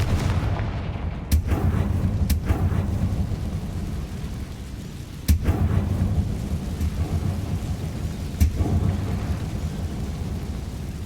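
Confringo fire-blast spells from Hogwarts Legacy burst in heavy booming explosions, three sharp impacts spaced a few seconds apart over a continuous rumbling, crackling roar.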